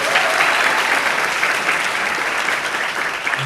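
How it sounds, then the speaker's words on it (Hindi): Audience applause at a Delhi launch event for the film Emergency, steady dense clapping from a large crowd filling the whole stretch at an even, loud level. "एक बार तालियां बजनी चाहिए इनकी जीत के लिए"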